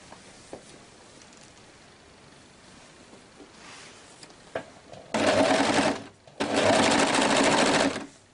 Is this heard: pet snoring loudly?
no